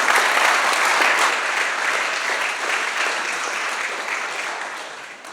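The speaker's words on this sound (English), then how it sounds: "Can we give him a round of applause?" An audience applauds a pilot after his talk about flying in Alaska, with dense, steady clapping from a seated crowd that runs throughout and tapers slightly at the end.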